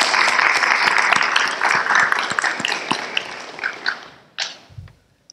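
An audience at a university honors awards night gives a round of applause, loud, dense clapping with sharp individual claps that thins out and fades toward the end, a few last claps trailing.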